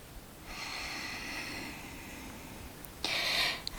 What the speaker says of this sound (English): One breath.